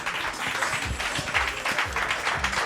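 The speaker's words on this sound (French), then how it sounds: "Les applaudissements s'il vous plaît." An audience at a fashion show applauds with a brief patter of clapping, moderately faint and fairly even throughout.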